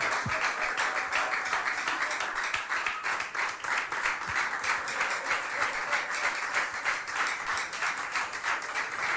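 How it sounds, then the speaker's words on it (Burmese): A church congregation claps together to welcome the preacher, a steady dense patter of applause lasting several seconds at moderate distance. "လက်ခုပ်တီးပြီးတော့ကြိုဆိုကြရအောင်"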